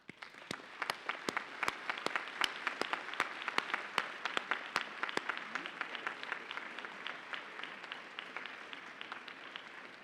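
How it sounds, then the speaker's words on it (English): Graduates at a commencement ceremony applaud, a broad and steady wash of clapping from a large crowd, with a few sharp nearby claps standing out early and then thinning. "I'd like you to applaud those that have helped you along your way."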